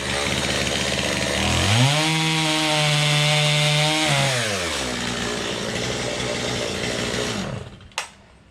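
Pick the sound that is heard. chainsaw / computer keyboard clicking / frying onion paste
chainsaw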